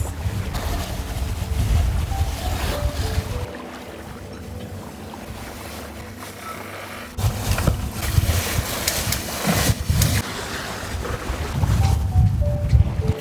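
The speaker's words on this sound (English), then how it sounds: "It is very gusty today and actually windier than we thought" Gusty wind buffets a sailboat running downwind, with roaring rushes of wind noise, the sound of water against the hull, and shifting loudness as gusts come and go, no talk.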